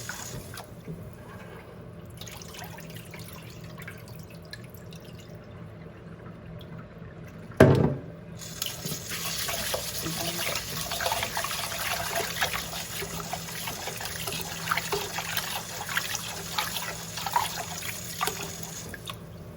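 Tap water trickles and splashes into a bowl while rice is rinsed in a kitchen, a soft stream that grows fuller and louder after a brief clunk midway, continuing alone without voices.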